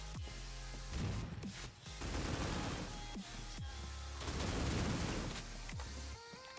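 An AK rifle fires in the mobile shooter Critical Ops, with dense rapid shots and booming impacts in several bursts over busy game noise, with no voices.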